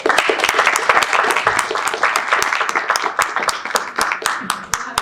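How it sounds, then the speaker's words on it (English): An audience applauds Mr. Lee at an exhibit closing reception, a dense, steady wash of many hands clapping close by for the full stretch, with a voice speaking over it. "go ahead and give him a round of applause, Mr. Lee"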